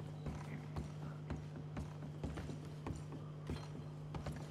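Regular clip-clop of horse hooves at a walking pace in Red Dead Redemption 2, over a steady low hum, each step sharp and close.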